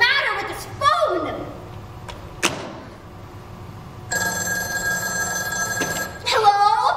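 An old-style telephone bell rings in bursts within a radio drama, sounding loud and close between pauses, with brief voices nearby.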